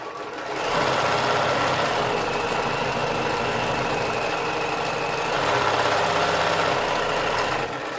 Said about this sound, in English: if I push this button, that's the reverse button, then George will just start stitching backwards